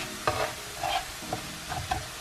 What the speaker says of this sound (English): And also my spices. Just going to let those toast off for a couple of minutes.